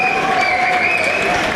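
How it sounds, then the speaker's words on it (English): A football crowd at a non-league match, Maltby Main against Emley, applauds a player being substituted off, with steady clapping under a sustained tonal hum. "gets applause and acclaim for his good evening's work"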